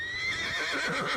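A horse whinnies loudly and close, a single long wavering neigh with rising and falling pitch, ending in faint low snorting pulses, with no talk over it.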